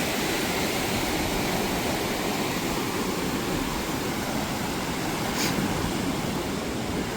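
Continuous loud roar of rough sea surging up onto the shore, a dense wash of crashing water that stays constant throughout, with no voices.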